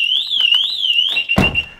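An aftermarket alarm fitted to a BMW 5 Series G30 wails loudly and close, a rising-and-falling electronic siren sweeping steadily before a thump and rattle cut across it near the end.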